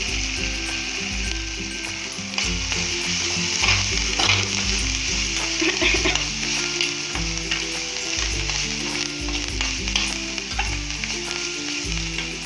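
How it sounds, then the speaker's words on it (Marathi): Tomatoes sauté in a pan for masala idli, a loud, steady sizzle with repeated stirring scrapes over a low rhythmic background hum. "इथे आपला टोमॅटो छान असा परतून झालेला आहे"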